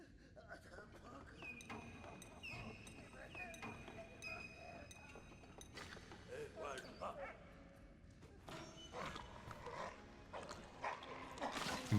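A dog barks in Valiant Hearts, short yips and barks over clinking, metallic game sounds and background music, fairly faint and busy throughout.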